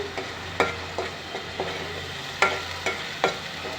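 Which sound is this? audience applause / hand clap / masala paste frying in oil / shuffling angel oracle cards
masala paste frying in oil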